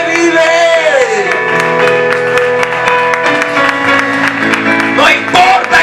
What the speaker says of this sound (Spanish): Fuerte el aplauso a aquel que vive.